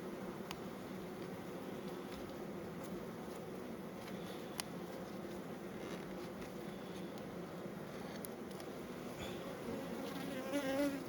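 Honey bees buzz steadily around an open hive frame being backfilled with honey, a dense continuous drone close by with no talk over it.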